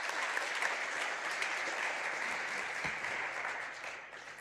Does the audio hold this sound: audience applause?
yes